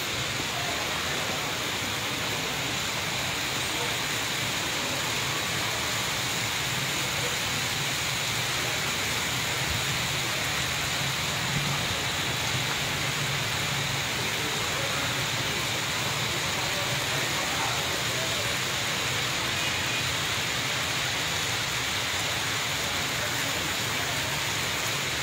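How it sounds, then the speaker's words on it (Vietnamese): Steady rain falls outdoors at the Independence Palace historical site, making an even, continuous hiss of drops that does not let up and plays alone, without talk. "Đây ngoài trời vẫn đang mưa."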